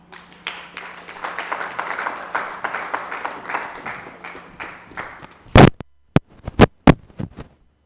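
A conference audience breaks into applause, a dense crowd of clapping hands that swells and holds for about five seconds, then fades into a handful of sharp, loud, close thumps and claps with silence between them, over a low mains hum.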